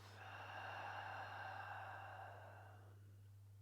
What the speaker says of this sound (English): Close your eyes and take a deep breath in.